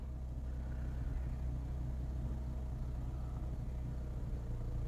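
A manual-transmission car's engine runs low and steady, rumbling and lugging at close range as the clutch is let out very slowly, the drone holding evenly throughout with no voices.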